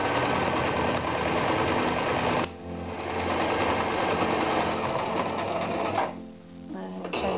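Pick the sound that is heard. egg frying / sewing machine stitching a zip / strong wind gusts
sewing machine stitching a zip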